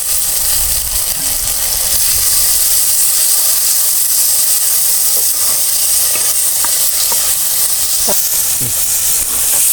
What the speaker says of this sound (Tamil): இப்போ நம்ம வெட்டி வச்சா அந்த ரெண்டு தக்காளியை உள்ளே சேர்த்துக்குவோம்